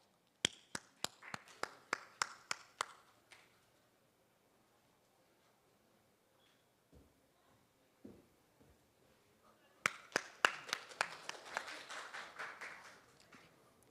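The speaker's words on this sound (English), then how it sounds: "Please send a warm applause." A conference audience claps in short bursts: a handful of sharp, separate claps at the start, a quiet stretch, then a denser round of scattered clapping toward the end, fairly faint and thin.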